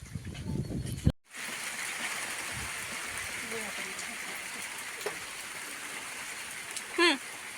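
Steady rain falls close by in a monsoon setting, a continuous broadband hiss running throughout after a brief cut, with a short burst of speech near the start and a voice briefly near the end.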